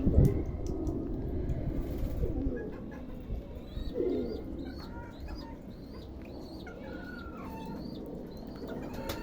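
Pigeons at a zoo cooing repeatedly in soft, rolling calls, with a brief flutter of wings near the start and a steady murmur of ambient crowd noise beneath.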